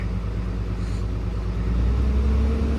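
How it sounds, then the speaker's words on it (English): A vehicle engine idles steadily while warming up after a cold start, a loud, even low rumble with a slight swell partway through and no talking. "Now we'll get this engine warmed up nicely"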